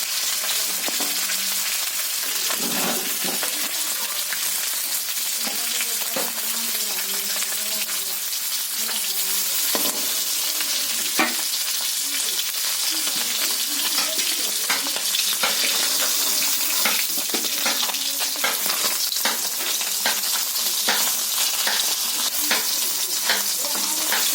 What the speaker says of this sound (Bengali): মাছটা আমার ভাজা হয়ে গেছে